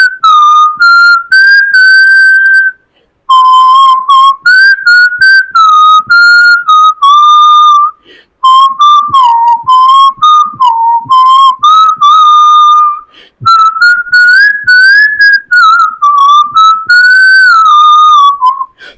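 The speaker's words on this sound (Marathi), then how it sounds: "मी शिट्टीतून गाणं म्हणून दाखवणार" A person whistles a song solo, a clear, loud melody of sliding and held notes in phrases separated by short breaths, with no talking.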